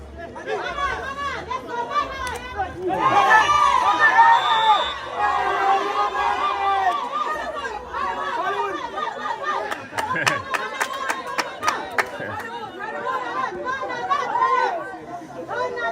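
Stadium crowd at a live football match involving Panama, a loud continuous roar of chatter and cheering swelling early and staying full throughout, with a commentator talking over it.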